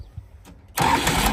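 A Mahindra tractor engine cranks and fires, quiet low rumbles first, then an abrupt loud catch about halfway through that settles into a strong, steady running roar up close.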